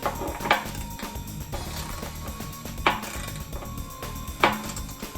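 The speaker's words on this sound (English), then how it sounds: "we'll set the torque wrench to 21 foot-pounds. And we'll tighten these other 4 bolts" Clicking ratchet of a torque wrench set to 21 foot-pounds tightening skid plate bolts on a Toyota Tundra, heard as three sharp clicks spaced apart over a low mechanical rattle, close and moderately loud with no talking.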